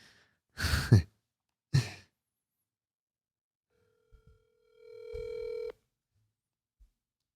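An outgoing call on a radio podcast gives a single sustained ringback tone, heard after a couple of short breaths and a sigh, then near silence.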